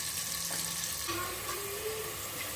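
Chopped onions fry in a pan with a pinch of asafoetida for a spicy mutton masala, a constant close hiss of frying with a few faint knocks, no voices.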